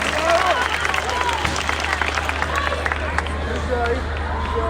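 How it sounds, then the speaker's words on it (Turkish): An audience claps for a performer named Mücahit at a poetry recitation event, steady crowd applause with a busy room murmur filling the whole stretch. "Mücahit'i bir alkışlayacağız değil mi?"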